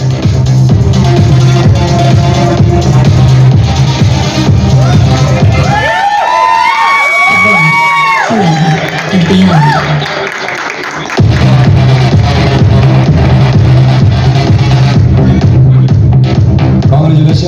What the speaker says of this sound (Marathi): जरा जोरदार टाळ्या ह्यांच्यासाठी, यांच्या टीम साठी.